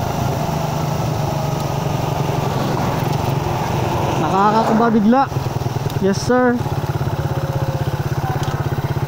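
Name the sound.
Suzuki Raider 150 carb motorcycle engines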